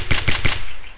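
Gunfire in a survival video game set near a secret bunker on Namalsk: three quick, loud bursts of shots in rapid succession, close and punchy, fading into a brief tail.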